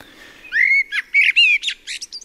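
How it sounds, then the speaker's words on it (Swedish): Eurasian blackbird song: a few warbled whistles followed by a quick, scratchy thrush squeak at the end of the phrase, close and clear with no voices. "Det är det så kallade trastgnisslet."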